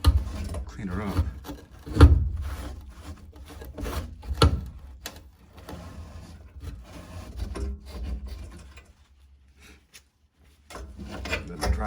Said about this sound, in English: And I'll wipe it down with a microfiber cloth here.